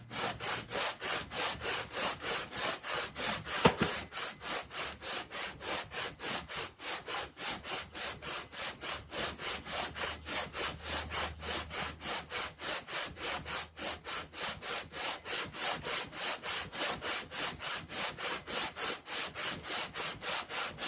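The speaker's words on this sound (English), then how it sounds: "we're just pushing the head back and forth across the sandpaper" A cylinder head is pushed back and forth across sandpaper laid on a flat glass top, making a steady, rhythmic rasping scrape of even strokes that repeats closely and loudly throughout.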